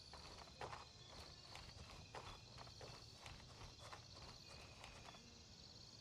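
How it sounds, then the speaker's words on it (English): Soft footsteps in the video game Gray Zone Warfare patter at a steady pace, faint and somewhat distant beneath a hissing outdoor ambience with insect-like chirps, and no one speaks. "I'm hearing footsteps."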